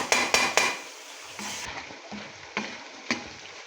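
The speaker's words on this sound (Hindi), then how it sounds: "फिर इसको भूनेंगे।" Garam masala, ginger and garlic frying for Bombay biryani, with several sharp spoon-on-pan clinks over a soft sizzle that fades and returns, ending in a few lighter taps.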